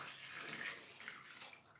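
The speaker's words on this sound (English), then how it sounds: "So we're adding water." Water is poured steadily into a pot of onugbo soup on the stove, a continuous soft splashing gush that lasts for under two seconds with no talking.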